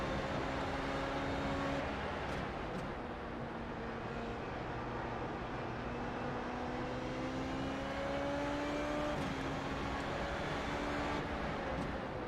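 A Formula Renault 3.5 race car drones around Watkins Glen in the iRacing sim, a steady engine whine that shifts pitch through the gears over continuous track noise, with no talking.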